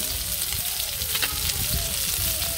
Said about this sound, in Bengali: মাছটা সুন্দর বাজে